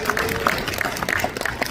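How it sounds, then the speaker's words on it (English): Crowd clapping at a boxing press conference, a loose patter of individual claps rising and falling over roughly two seconds, with faint crowd noise beneath. "Y'all clap it up for Bob Aaron"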